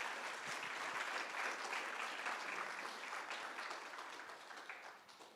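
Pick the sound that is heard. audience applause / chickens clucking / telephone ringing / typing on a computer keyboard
audience applause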